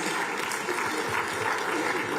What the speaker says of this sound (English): Ladies and gentlemen, please can you give a round of applause